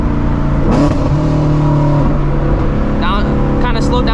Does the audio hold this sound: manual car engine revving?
yes